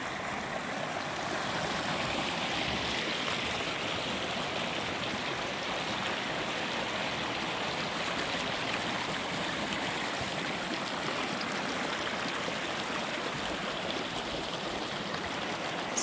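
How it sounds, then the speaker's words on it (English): A small creek flows steadily through a scenic natural spot, its continuous rushing and burbling water sound even and fairly close, with no voices heard. "It's a beautiful creek."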